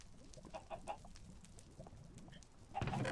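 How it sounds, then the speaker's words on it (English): Chickens in Minecraft cluck softly in short, scattered bursts at a distance, with footsteps and game ambience, before a louder noise at the end. "why is there a chicken out here?"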